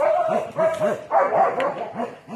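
Shepherd dogs barking in a muddy outdoor kennel yard, a rapid series of about eight close, loud woofs in quick rhythm with some whiny yips.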